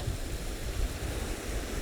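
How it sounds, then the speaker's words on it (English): A waterfall along a mountain path below a tarn makes a constant rushing wash of falling water. It is steady and moderately loud, with no voices over it. "to this waterfall, and it's hard to see, but see that fall in there?"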